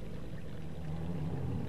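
Water pours steadily into a small waterfall in the video game Zelda: Majora's Mask, a continuous low gushing rush that holds at a constant level through the moment.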